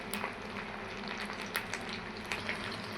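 Pieces of steamed egg frying in hot oil give a steady, fairly quiet crackling sizzle with a few sharper pops, continuous and close throughout.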